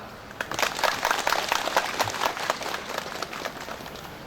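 An audience applauds to welcome a provincial governor at a Thai Buddhist ceremony, a dense burst of clapping that rises quickly and holds steady at moderate loudness throughout.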